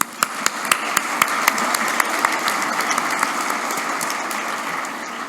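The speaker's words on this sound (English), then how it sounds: "Can you give yourselves a round of applause?" A crowd claps steadily, a dense patter of applause led by a few sharp, rhythmic claps at the start.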